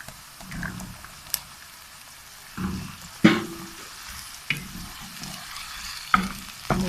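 Cauliflower florets frying with browned onions in a pan for aloo gobi, giving a low steady sizzle with intermittent stirring scrapes and a few sharp spoon knocks against the pan, close up and without speech.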